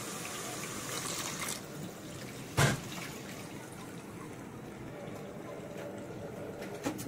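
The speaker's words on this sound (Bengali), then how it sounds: "পানি অ্যাড করে দেবো।" Water poured into a cooking pot while beef liver and beef are being cooked, a soft running splash and trickle with one sharp clatter partway through, close and moderately loud.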